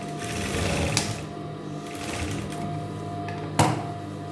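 A sewing machine runs steadily through fabric for a quilted jutti upper, a continuous mechanical whir at close range with two sharp clicks partway through, no voices.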